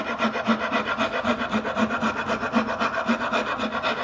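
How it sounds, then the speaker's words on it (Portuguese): A wood rasp files the rounded head of a wooden carving mallet, making steady back-and-forth scraping strokes at a quick, even rhythm, close up and alone. "E aí eu finalizo na grosa"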